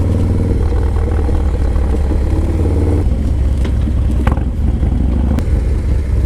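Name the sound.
motorcycle engine revving hard near the rev limiter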